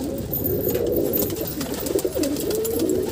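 Pigeons on a rooftop breeding loft coo steadily, several soft overlapping calls blending into a continuous nearby murmur.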